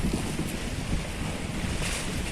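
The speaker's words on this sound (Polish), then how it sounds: "Wszedłem sobie usiąść nad brzegiem morza, bo tu jest cicho, spokojnie." Sea waves wash continuously onto the shore on the Sicilian coast, a broad steady rush with wind buffeting the microphone throughout, fairly loud and close with no voices.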